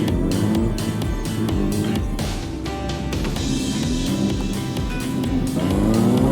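A police motorcycle engine during gymkhana training, loud and continuous, revving up and down through tight maneuvers with rapid throttle changes, with background music playing underneath.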